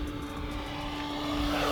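A Hangar 9 Fun Scale PT-19 balsa-wood RC plane with a 56.5-inch wingspan makes a full-throttle pass, its engine a steady, loud, buzzing drone that holds level and swells slightly toward the end.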